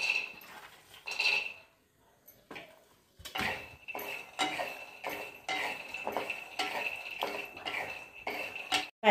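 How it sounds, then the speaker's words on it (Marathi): Peanuts dry-roasted and stirred in a pan for curry leaf chutney, a steady run of scraping, clinking stirs and rattling nuts against metal, close and moderately loud, with a brief quieter pause near the start. "भाजून घेतले, या असे चांगले खरपूस भाजून घ्यायचे शेंगदाणे"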